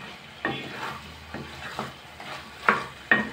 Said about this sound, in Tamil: ஒரு வாட்டி மிக்ஸ் பண்ணிடலாம்.